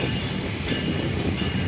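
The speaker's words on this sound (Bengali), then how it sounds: "তার আগে আমরা এখন ফোকাস করি আমাদের 727 রূপের রানী রূপসা এক্সপ্রেসকে" The 727 Rupsha Express intercity train at Chilahati railway station, a loud continuous rumble of rolling carriages with a dense rattle of wheels on track, heard close and alone.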